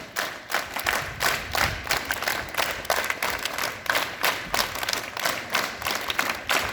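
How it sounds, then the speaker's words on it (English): Students at a school morning assembly clap together in a steady unison rhythm, about a dozen evenly spaced loud claps with a crowd murmur underneath. "Clap together. Rhythm."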